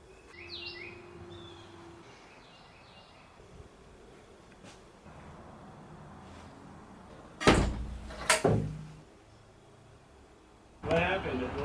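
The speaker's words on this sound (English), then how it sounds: "At the last second this door shut, so I can't get out." A door shuts inside a school bus being converted, with its plywood floors being painted. Two sharp, loud knocks come close together, followed later by another clatter, over quiet ambience with faint birdsong outside.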